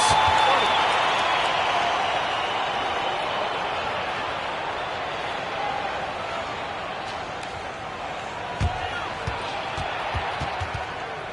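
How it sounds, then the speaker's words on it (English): Crowd at a Suns versus Clippers NBA basketball game during a Phoenix timeout, a steady broad roar of applause and noise that slowly fades, with a few sharp thumps near the end. "Let's give a round of applause for your"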